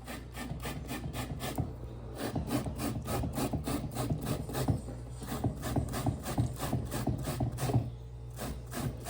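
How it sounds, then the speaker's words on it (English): Bananas grated by hand on a grater for coconut dumplings, a continuous close rasping scrape repeating in quick, even strokes throughout, with no talking. "So I'm grating 4 bananas to make my coconut dumpling."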